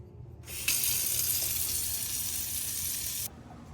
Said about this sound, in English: Open hot water faucet.